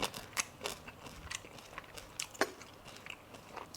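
Close, crunchy chewing and biting of eggplant eaten with Thai shrimp-paste chili dip (nam prik kapi), alongside a cha-om omelette, with rapid irregular crisp crunches throughout.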